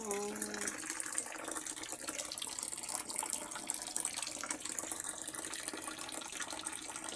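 Running tap water used to rinse off after bathing in the sea, a steady continuous splashing stream at fairly low level, with a brief faint voice at the very start.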